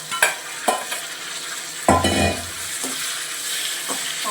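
Onion, garlic and tomato sauté in a pan with a steady frying sizzle and loud, close spatula scrapes and knocks against the metal, one heavier clatter midway.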